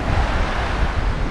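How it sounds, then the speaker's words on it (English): A small drainage river flows across a sunny tropical beach, a steady loud rush of water mixed with wind buffeting the microphone, with no talk. "There's some river, small drainage river here,"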